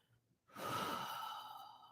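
A single soft, slow exhale breath, close and quiet, taken during a gentle beginner mobility stretching workout.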